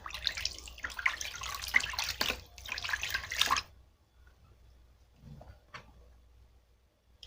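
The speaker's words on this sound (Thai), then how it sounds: "ก็จะไปทำการล้างออกด้วยน้ำเปล่านะคะ" Tap water runs steadily while hands are rinsed clean with plain water at a sink, a continuous hiss for about three and a half seconds, then stopping and leaving quiet room sound with a few faint drips and handling noises.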